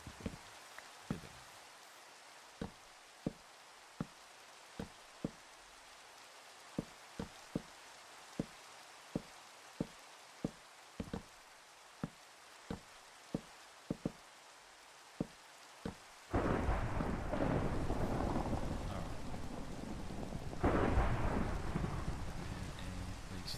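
Rain and a thunderstorm in the video game Minecraft: a steady patter of sharp raindrop ticks repeats evenly, then a loud, rumbling wash of heavy rain and thunder swells in and dominates the second half, with no talking.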